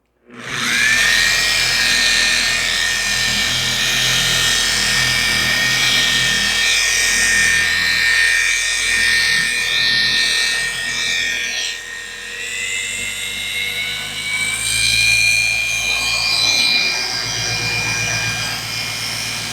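A DIY Detail dual-action polisher with a 25 mm throw whirs loudly and steadily on damaged car paint, its high-pitched motor whine shifting in tone as pressure and speed change, heard up close with no talk.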